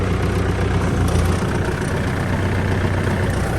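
A farm tractor engine running at about 2,400 RPM during land preparation, a loud, steady, close-up diesel drone with constant low rumble and vibration throughout.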